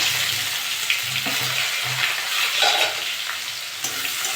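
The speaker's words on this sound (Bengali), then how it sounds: "আমি এবার পেঁয়াজ দিয়ে দেবো" Steady, loud sizzling of onions frying in hot mustard oil, with occasional stirring scrapes and no voices.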